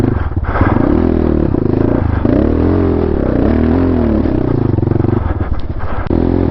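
A GPX Moto FSE 250e dirt bike climbs in first gear at low RPM on a Payson Canyon trail, its steady close engine drone rising and dipping slightly with throttle, loud throughout with some clatter and no talk.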